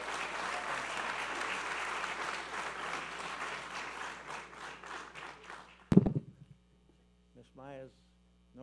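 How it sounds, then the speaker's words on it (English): Meeting audience applauds for several seconds over a low electrical hum, the clapping fading out before a sharp bump and a brief spoken word near the end. "If there's anybody that should get a round of applause,"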